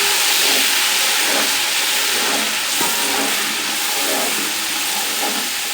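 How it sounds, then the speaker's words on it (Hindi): Ground garlic and ginger paste fries with dark-browned onions in a pan for matar pulao, a loud, dense, steady hiss and sizzle heard up close with no talking. "अब हम इसमें लहसुन अदरक पिसा हुआ डाल देंगे।"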